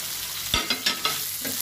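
Mushrooms dropped into a simmering prawn curry, a soft sizzle with a handful of quick scraping stirs close by.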